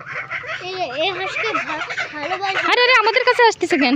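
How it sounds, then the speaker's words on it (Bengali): A gander (king goose) comes close, giving loud honking, gobble-like calls that rise and fall through the clip, mixed with excited children's voices talking over it. "রাজা হাঁসকে কি ভয় পাও? এখন ঠোকর দেয়।"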